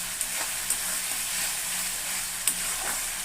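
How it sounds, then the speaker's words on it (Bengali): Fish curry masala frying in a pan, a steady close hiss of sizzling oil with a few soft stirring scrapes and clicks, no voices. "মাছটাই করছি মশলাটা যাতে ভালো করে কষানো হবে"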